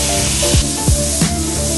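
Smash burger patties covered with thin sliced sweet onions sizzle loudly on a hot griddle, a close, continuous hiss punctuated by three quick scraping presses of a spatula.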